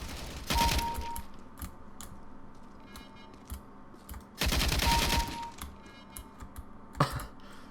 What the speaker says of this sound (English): I'm getting shot through the damn smoke.